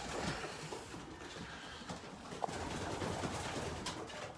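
Racing pigeons cooing inside a race loft, soft low repeated coos close by over a murmuring background, with a brief tap partway through.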